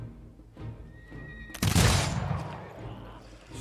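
A burst of soldiers' gunfire in the strategy game Humankind, a loud sudden volley that decays over a second or two, following quieter shouted commands.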